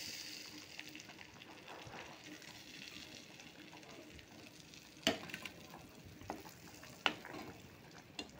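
Shrimp frying in oil in a kadai (wok), a steady soft sizzle with scraping stir clicks and a couple of sharp utensil taps near the middle and end, fairly quiet and without talk.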